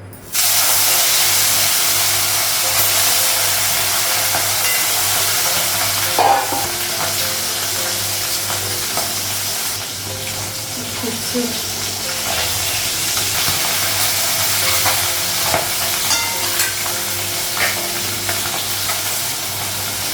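Tengra fish fry in a pan with turmeric, giving a loud, continuous hiss and sizzle with occasional clatters and scrapes from stirring.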